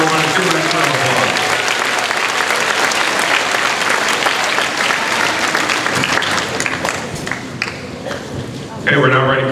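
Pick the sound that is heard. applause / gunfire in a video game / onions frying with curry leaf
applause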